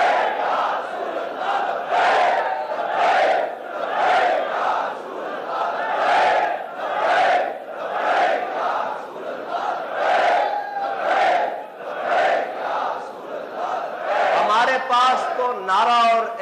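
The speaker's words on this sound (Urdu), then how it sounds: "حضور کا ذکر ہو تو ہم نعرہ وہ بلند کرتے ہیں کہ لبیک" A large crowd at a Friday sermon chants the Labbaik slogan in loud, rhythmic repeated bursts roughly every second, voices massed together and sustained throughout.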